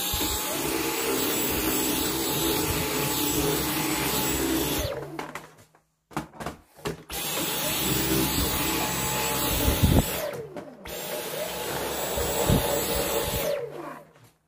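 A Dyson V10 cordless vacuum cleaner runs with a loud, steady high whine, cutting out briefly twice before restarting and running again, close by with no talking.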